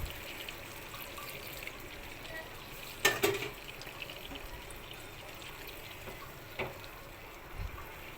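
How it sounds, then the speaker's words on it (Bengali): Hot water splashes into a pot of desi chicken curry with a brief pouring burst, then softer bubbling and scattered stirring clinks over a low kitchen background. "এখানে আমি একটু গরম পানি দিয়ে দিলাম"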